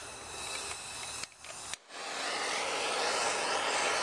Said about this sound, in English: take my torch,